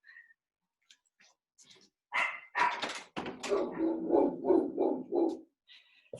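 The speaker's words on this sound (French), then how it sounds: "mon chien qui aboie" A dog barks in a quick series of about seven or eight sharp barks, fairly close and loud, after a few faint yips; no one speaks.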